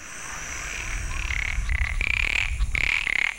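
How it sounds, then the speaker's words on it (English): A monkey tree frog from Paraguay's Gran Chaco croaks in a series of clear, bright calls repeated several times, loud and close, over a steady hum of background noise. "The monkey tree frog, as it is called in the pet trade, ranges throughout the Gran Chaco"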